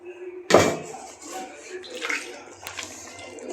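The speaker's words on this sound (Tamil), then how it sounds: "இப்போ அரைச்சிட்டு வந்த செலவை இதில் ஊற்றிக்கலாம்." Ground masala paste poured from a vessel into country chicken marinated with gingelly oil, turmeric and ginger-garlic paste, a sudden wet splash and slop followed by softer scraping and clinking.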